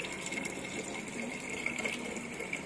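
Water running from a tap into buckets, a steady hissing gush with a gurgling fill, continuous and close, with no talking.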